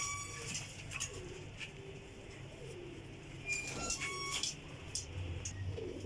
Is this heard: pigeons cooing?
yes